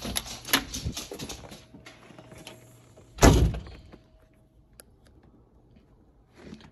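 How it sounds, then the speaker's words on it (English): An outer door is unlocked and pushed open on a snowy winter morning: a run of small latch and handle clicks and rattles, then one loud close thunk of the door, followed by quiet room tone and a few faint knocks. "Unlock the door."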